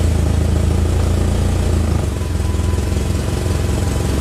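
MK1 VW Rabbit engine idling roughly in a garage after a serpentine belt conversion, a loud close chugging rumble with uneven pulsing that shifts and loosens partway through.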